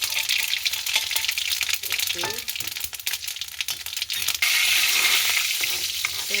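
Mustard seeds and fennel seeds sizzle in hot oil for a prawn curry, a loud continuous frying hiss with crackles and stirring scrapes that swells louder near the end.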